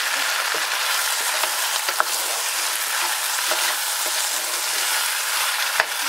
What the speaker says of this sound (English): I think it's time I can add the meat to the onions.